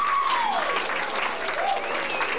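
Banquet guests from a high school class of 2002 reunion give themselves a round of applause, dense, even clapping filling the room with a few whistles rising over it.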